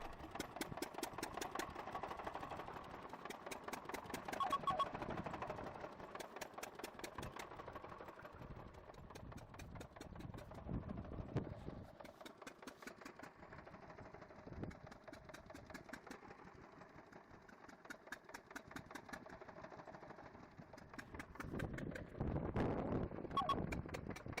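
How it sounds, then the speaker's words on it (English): An oil well pump jack more than seventy years old, its walking beam driven by an electric motor and gearbox, runs with a faint, steady mechanical hum and rapid rhythmic ticking and knocking throughout. "Its massive walking beam rises and falls with steady precision, driven by a rugged gearbox and an electric motor designed for continuous duty."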